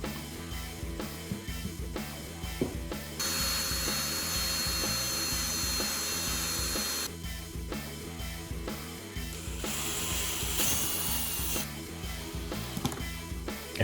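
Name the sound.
drilling screws into rails to mount a filter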